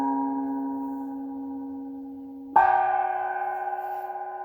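Peking opera gong touched lightly at its center node, giving a sustained ringing tone that suddenly shifts to a new, brighter pitch partway through as it keeps ringing.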